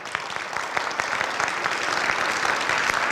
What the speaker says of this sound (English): I want to give her a round of applause for pulling this thing together